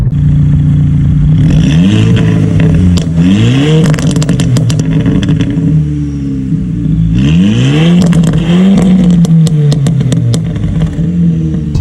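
A VW Golf GTI Mk5 engine revs up and drops back twice, loud and close, while sharp crackling pops from the exhaust burst out on the overrun after each rev.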